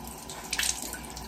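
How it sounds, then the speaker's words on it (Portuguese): Water runs from a bathroom tap onto a makeup sponge being wetted, a steady splashing hiss with a brief louder burst partway through, close by and without talk. "Liga a torneira. E molha a sua esponja"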